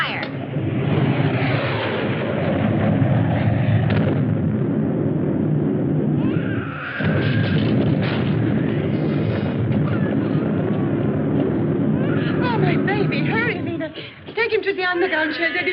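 Naval guns firing during a battle scene, a heavy sustained roar of engines and blasts filling the whole stretch, with voices calling out over it near the end.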